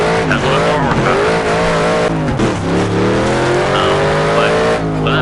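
A Mustang race car in the racing game Project Cars, its engine revving high and steady with rising and falling pitch as it shifts and accelerates, tires squealing through corners, loud and close.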